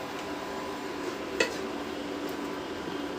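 Semolina (suji) stirred and cooked in a wok over low to medium heat, a faint dry scraping under low background noise, with one brief sharp clink of the utensil against the pan.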